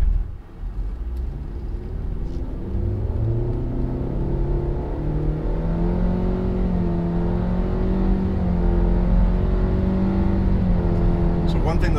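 A 2014 Nissan Rogue S front-wheel-drive four-cylinder midsize SUV accelerates, its engine drone rising and shifting pitch steadily from inside the cabin, with someone talking over it.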